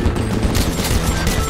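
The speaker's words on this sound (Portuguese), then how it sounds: "O cara fica atirando aqui" Rapid continuous gunfire fills the Nintendo Switch game Galaxy Champions TV, a dense crackling barrage played loud and unbroken for the whole short stretch.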